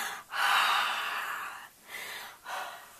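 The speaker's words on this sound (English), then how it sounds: "I'm going to pretend I'm breathing." Someone breathes out close onto a wet watercolor painting in a few airy exhales: one long breath followed by two shorter ones, soft and close with no talking.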